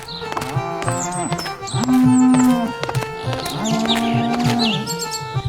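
Buffaloes in a stable give several long, loud moos, one after another, over a busy cartoon soundtrack with chirping bird calls.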